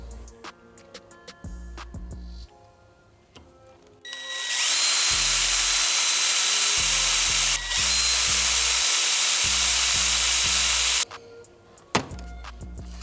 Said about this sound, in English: So we'll go ahead and drill those two holes.